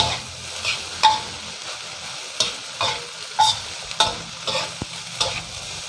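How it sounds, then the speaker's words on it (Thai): Chinese sausage fried rice with egg being stir-fried in a pan over medium heat: steady sizzling with repeated scraping and tossing strokes of the spatula against the pan, close and fairly loud, no talking. "พอไข่มันเซ็ตตัวเราก็เริ่มผัดได้"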